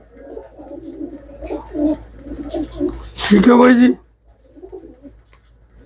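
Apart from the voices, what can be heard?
pigeons cooing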